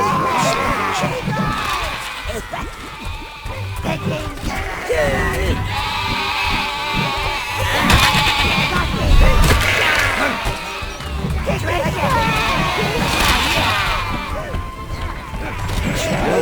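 Sheep bleat repeatedly amid a busy, noisy soundscape in the video game Overlord, with thuds and clatter, loud and continuous throughout.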